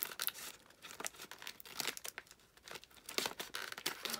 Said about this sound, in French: on va couper le scotch